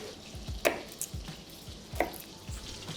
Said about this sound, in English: So the caramel's starting to brown off now. My butter's, you can see, is foaming also.